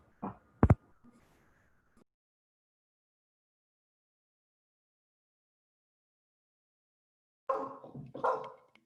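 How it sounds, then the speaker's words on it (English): A dog at home barks a couple of sharp times near the start, then a gap of silence before a short burst of muffled barking or vocalizing at the end. "Sorry, my dog."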